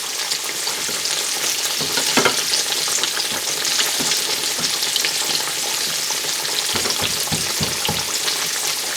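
Cornstarch-coated green tomato slices fry in a pan with a dense, steady crackling sizzle and scattered pops and spatters, close and constant throughout with no talking.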